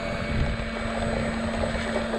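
A 70mm EDF RC jet taxis out, its ducted fan giving a steady whine with a low hum beneath and a wind-blown rush over it, held continuous and fairly close with no talk.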